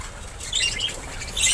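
Budgies gather at feeding time, with brief high chirps and soft fluttering heard close over a low background rumble.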